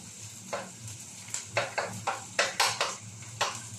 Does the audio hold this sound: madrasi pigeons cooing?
no